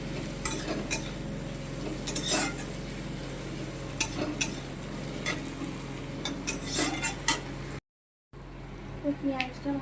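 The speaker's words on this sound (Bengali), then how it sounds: "পেঁয়াজ যখন ভাজা ভাজা হোক" Onions fry in hot oil in a pan, giving a soft steady sizzle broken by frequent scraping and clinking strokes of a stirring utensil, close by and fairly quiet.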